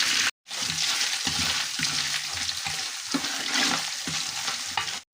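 Grated coconut frying in coconut oil with mustard seeds, a dense continuous sizzle with rhythmic stirring scrapes throughout, close and loud after a brief silent gap at the start.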